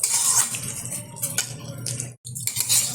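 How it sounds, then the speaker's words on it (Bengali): Rice and lentils being dry-fried in a pan for khichuri, with a metal spoon stirring and clinking against the pan over a soft sizzle in irregular bursts, close and fairly loud. "চাল ডালটা কিন্তু খুব ভালোভাবে আমি ভেজে নিচ্ছি"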